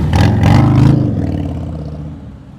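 A motorcycle at slow speed during an advanced slow-speed riding practice session in North Carolina, its engine loud and close at first, revving briefly, then settling into a steady idle-like rumble that fades slowly.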